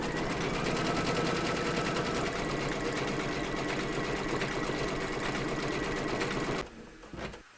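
Embroidery machine stitching a round in mid brown thread for a praying hands silhouette on a Ten Commandments bellpull panel, a steady loud rapid needle clatter running continuously before dropping away near the end.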